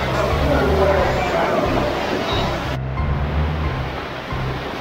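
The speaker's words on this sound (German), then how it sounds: "Es laufen zwei Bäche ineinander zusammen" Two streams merge inside an underground catacomb tunnel in Aachen, giving a loud, steady rush of flowing water that fills the whole stretch with constant broadband noise.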